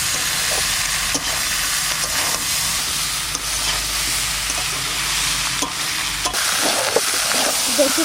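Potato pieces frying in hot spiced oil for a green jackfruit curry, a loud, dense continuous sizzle with occasional spatula scrapes and knocks as they are stirred, no voices.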